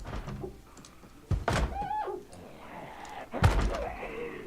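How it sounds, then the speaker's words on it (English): A zombie bangs on a window in Project Zomboid, giving two heavy thumping knocks a couple of seconds apart, with faint scraping and groaning sounds between them. "there's one banging on the window there"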